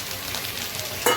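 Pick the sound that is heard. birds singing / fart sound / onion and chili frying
onion and chili frying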